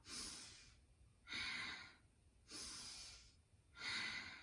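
Slow yoga breathing: four long, steady breaths alternate between inhales and exhales through the nose, each lasting about a second, close and clear with no talking.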